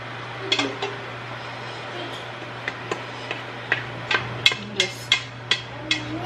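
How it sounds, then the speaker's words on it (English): Chipped beef being scraped off the bottom of a pan for creamed chipped beef, heard as a run of sharp utensil taps and scrapes that come quicker and louder toward the end, over a steady low hum. "I just want to make sure I can scrape most of that off the bottom before I add the milk."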